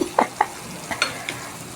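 Alugbati leaves and mixed vegetables being stir-fried, with a few scattered scrapes and stirs of a utensil against the pan over a soft background sizzle.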